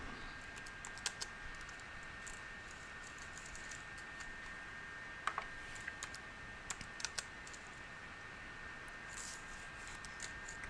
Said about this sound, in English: I'll type in an address.